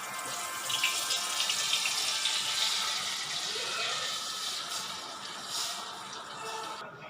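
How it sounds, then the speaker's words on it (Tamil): Boiled water is poured in a continuous, close splashing stream for about seven seconds while making rava kesari. "கொதித்த நீரை ஊற்ற வேண்டும்."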